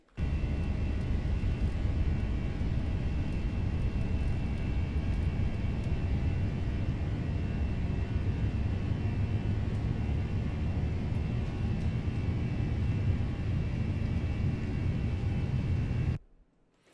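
Airbus A320 takeoff roll in the Flight Factor simulator: a loud, steady broadband jet engine roar holds continuously without break for about sixteen seconds, then cuts off abruptly into near silence.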